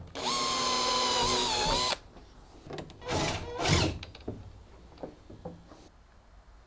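A power drill whines loudly and close for about two seconds as it bores into a jet sled wear bar, then stops. Scattered handling clunks and scrapes follow in the quieter remainder.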